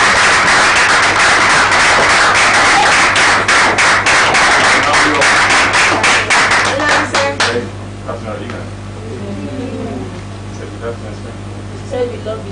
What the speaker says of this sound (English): A round of applause to your camp commandant.